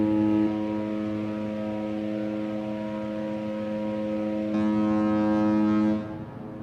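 Deep, steady horn of the Carnival Vista cruise ship sounding from far off near Galveston, a long sustained tone with harmonic layers lasting about six seconds before cutting off, heard alone in open air.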